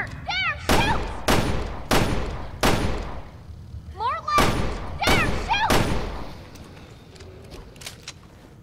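Loud, close gunshots from Resident Evil Revelations 2 ring out in two clusters of about four evenly spaced blasts each, with shrill creature cries between them and a fading tail afterward.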